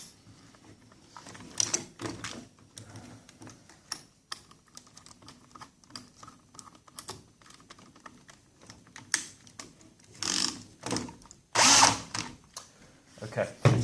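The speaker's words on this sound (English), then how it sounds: "we're going to go through with a 10mm drill bit" A 10mm drill bit bores into MDF in short, intermittent bursts of whirring and grinding, with quiet handling clicks between them and the loudest runs near the end.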